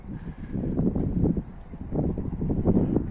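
Soft outdoor wind buffets the microphone in low, uneven gusts on a cool winter day in Iskenderun, with nobody speaking.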